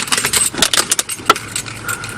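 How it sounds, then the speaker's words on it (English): Keys jangling and clinking in a rapid series of bright, close metallic rattles, with a few sharper jingles and no talking. "Okay, gotta find keys."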